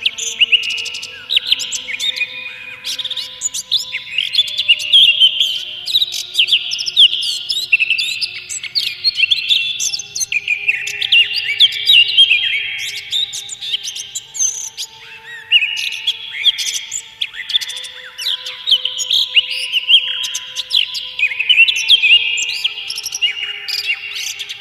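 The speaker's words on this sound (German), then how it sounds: "Auf dem Felde und im Walde hausten viele Vögel." Many birds sing together in open field and forest, a dense, bright chorus of overlapping chirps, trills and whistles running continuously for the full length, close and lively, with no talk.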